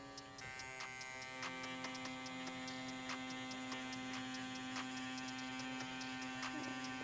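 Bronc V8 tattoo machine running at 9 volts with an 11 round liner needle, a steady close electric buzz with a constant hum and regular faint ticking, unchanging throughout with no talking.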